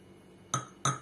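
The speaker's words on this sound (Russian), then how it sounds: "Слегка так утрамбовали ложечкой." Two crisp clinks of a spoon against a glass jar while ivan-chai leaves are tamped down inside it, each short tap ringing briefly before fading.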